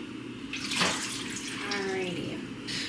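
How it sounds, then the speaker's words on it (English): Tap water runs into a pitcher for bone broth, a steady broadband rush with a brief louder splash near the start and a rising tone as the vessel fills; no talking. "not quite a full pitcher, but we're going to keep filling this up"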